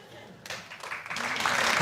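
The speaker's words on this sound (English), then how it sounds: "What are they clapping?" A studio audience at a comedy panel show breaks into applause, rising from a low murmur to loud, steady clapping that swells toward the end.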